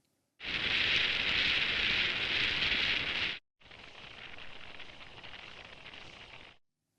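Wind noise picked up through Oticon hearing aids, a loud broad rushing roar for about three seconds, then a short break and a second, quieter stretch of steady blustery hiss.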